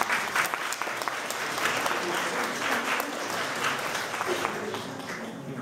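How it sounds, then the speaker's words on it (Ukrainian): Sustained applause from an audience honoring a team, many hands clapping in a steady dense patter with faint voices murmuring underneath. "Їм, я думаю, маємо величезні оплески зараз подарувати."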